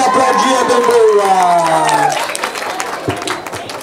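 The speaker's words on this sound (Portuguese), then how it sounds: "Pode aplaudir, é bem boa." An audience applauds at a gaucho rodeo during a vaca parada roping event at the 26th FECARS. An announcer's voice is heard over the start, and the clapping thins and fades toward the end.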